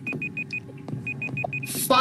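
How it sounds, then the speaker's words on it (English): Rapid beeping of a timer going off in a Roblox Rainbow Friends game, a run of short evenly spaced high beeps over a low rumble, ending in a brief burst of louder noise. "The timer just went off."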